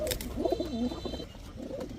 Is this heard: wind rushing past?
no